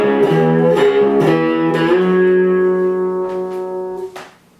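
Electric guitar phrase from a song, a few picked notes sliding up the fourth string into a sustained ringing note that fades at the end, played alone.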